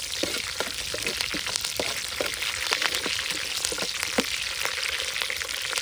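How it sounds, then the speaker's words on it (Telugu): Mustard seeds and curry leaves splutter in hot oil for a Rayalaseema fish curry, sharp crackling pops scattered irregularly over a continuous loud sizzle, close up with no voices. "వీటన్నిటిని బాగా చిట్పట్లాడేంత వరకు వేయించుకోవాలి."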